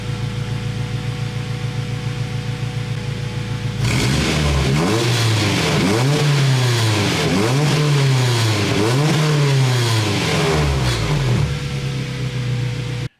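Warmed-up car at normal idle fitted with a budget 3-inch aftermarket exhaust, steady idle burbling before several sharp revs rise and fall in a repeating pattern, loud and close, then settling back to idle.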